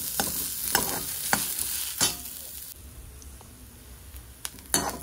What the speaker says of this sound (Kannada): ಇವಾಗ ಇದನ್ನು ಚೆನ್ನಾಗಿ ಫ್ರೈ ಆಗಲಿ, ಅಲ್ಲಿವರೆಗೂ ಹುರ್ಕೋಬೇಕು